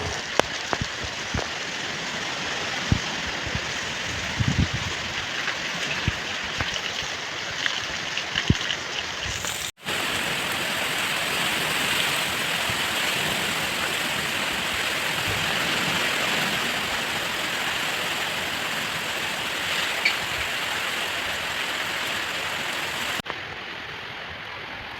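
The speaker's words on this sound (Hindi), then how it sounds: "अगर हम बारिश की आवाज़ सुने आंखें बंद करके" Steady, dense rainfall hisses and patters on surfaces nearby for the whole stretch, briefly cutting out twice and then resuming, with no one speaking.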